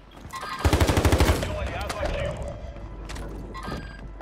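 Rapid bursts of automatic gunfire in the video game Call of Duty, loud and close in quick repeated shots for under a second, then fading into game noise with people talking.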